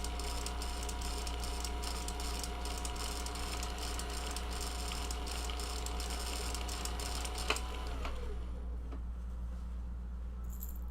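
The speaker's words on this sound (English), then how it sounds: "My sewing machine doesn't like full bottoms." A home sewing machine stitching cosplay fabric runs with a steady, fast mechanical clatter and whir, fairly close. It stops abruptly near the end, leaving quiet room tone.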